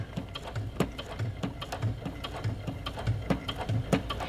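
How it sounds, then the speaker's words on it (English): A sewing machine fitted with a denim needle stitches through Kraft-Tex tote bag material, its needle running at a steady, moderate pace with regular mechanical thumps, close and continuous for the whole stretch. "I'm going to begin sewing at about 1/4 inch on the inside of the raw edge of the bag"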